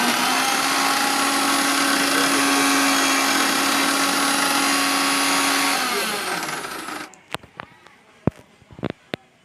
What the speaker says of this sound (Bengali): তো আমরা ব্লেন্ডার করতেছি